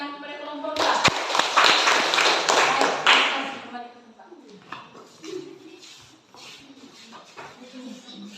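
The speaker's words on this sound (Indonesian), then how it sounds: "Berikan tepuk tangan kepada kelompok A." A classroom of students applauding a presenting group, a dense burst of loud clapping lasting a few seconds before fading, followed by quieter scattered claps and talking.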